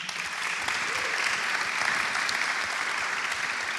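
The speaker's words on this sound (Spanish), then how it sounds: "Un aplauso para Gustavo" An audience applauds for Gustavo at a startup founders' panel: a sustained, even wash of clapping from a moderate-sized room, with no break and only slight swells.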